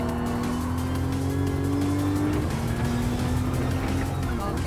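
A Toyota Supra race car in Gran Turismo 7 runs over curbs, giving a loud, steady engine drone with tire noise and rumbling texture, while someone talks over it.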